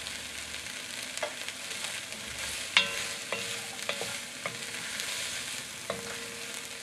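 Diced zucchini sautéing in a pan for a white bean soup, a steady broadband sizzle with several sharp utensil scrapes and clinks from stirring, close and alone with no talk.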